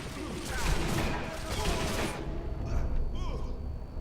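Rapid sniper and rifle gunfire with booming shots in the World War II shooter Sniper Elite V2, loud and busy during the first two seconds, then sparser reports under ongoing game noise and voices.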